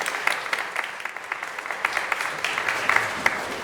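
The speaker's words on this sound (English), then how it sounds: "let's give one more round of applause to our keynote speakers and everyone else that's there" Audience applause at an adventure education conference keynote, a steady wash of many hands clapping with scattered sharper claps, fairly close and continuous throughout.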